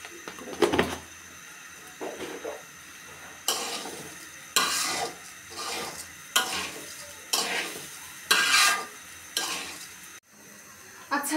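Rice frying in a pan with salt added, stirred in repeated scraping bursts over a soft sizzle, each stroke loud and close with brief pauses between, then a clunk near the end.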